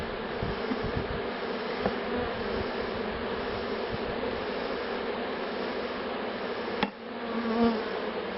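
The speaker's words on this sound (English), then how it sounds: "don't upset the bees by tapping on the hive or causing vibration, because they are very sensitive to vibration" Honey bees buzz around an open hive in a dense, continuous droning hum close by, with a few soft knocks and a sharper click near the end.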